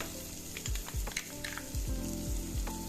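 Chopped garlic and diced onion sautéing in a pot for Jamaican-style pepperpot soup, a soft steady sizzle under several low thumps and scrapes from stirring, close by and without speech.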